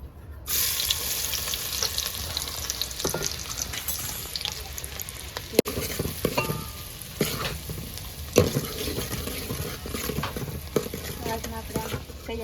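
Sliced onion fries in hot oil for a fish dish, with a continuous close sizzle broken by the clinks and scrapes of a spoon stirring the pan.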